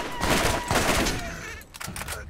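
Rapid enemy shotgun blasts in the Borderlands game, a dense volley of loud, close shots crowding the first half, then a sharper scattered burst after a brief lull.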